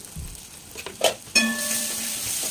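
Tomatoes with red chili, cumin and turmeric powders hit hot oil for a tilapia curry: a few soft stirs and clinks, then a sudden, steady sizzle that holds close and moderately loud to the end.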